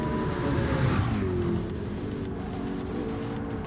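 Race car crashing out in Gran Turismo 7 at Interlagos, a loud continuous roar of engine and tire noise with a skidding sweep early on, then a steady engine drone.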